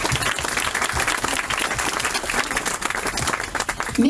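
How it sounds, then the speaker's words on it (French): Crowd applause at an outdoor commemoration for the association members and flag bearers, a thick continuous clatter of many hands with some crowd murmur beneath, loud and close throughout. "Je pense qu'il faut les applaudir"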